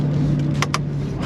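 A BMW M4 with magnetic shift paddles cruises along, its engine giving a steady low hum inside the cabin. A couple of short clicks and rustles come through over the drone.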